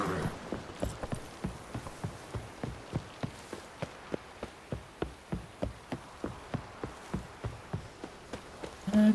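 Roach, the horse in The Witcher 3, walks with a steady, evenly spaced clip-clop of hooves, about three steps per second, moderately close and alone with no talk over it.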